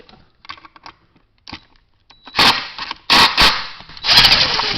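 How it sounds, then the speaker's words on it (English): A bolt being taken out of the nail track on a Hitachi/Metabo nail gun, a few small metallic clicks followed by louder scraping and rattling handling noises, close up, with no talking. "So you take out the 1 bolt because it's easier."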